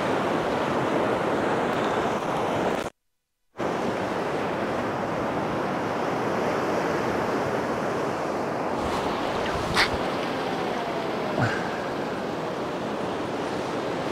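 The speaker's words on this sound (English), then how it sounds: "we're coming up to high water now. We're on a pebble beach" Waves break and wash over a pebble beach at high water on the Bristol Channel, a loud, continuous roar of surf with wind buffeting the microphone and a short dropout early on.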